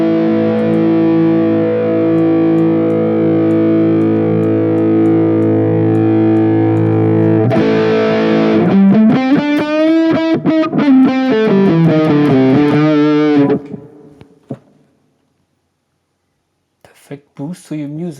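An electric guitar plays sustained distorted chords through a Valeton GP-200 boost with the high cut removed, then a busier riff, before stopping; a bit of noise returns at the end.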